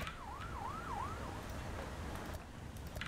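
A wailing ambulance siren in the firefighting game Fire Commander sweeps up and down a few times at moderate distance, then fades under a low rumble of traffic.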